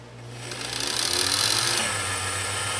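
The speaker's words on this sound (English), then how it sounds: "We apply this load to it as if we're trying to wind a bobbin." Singer 96K41 light industrial sewing machine motor running under load as if winding a bobbin, a close mechanical whir that rises in pitch and strain over the first second, peaks, then eases slightly and keeps running steadily.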